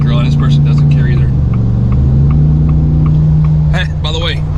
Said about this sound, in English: I put on an MBRP exhaust on it because, you know, Godzilla, you want to hear it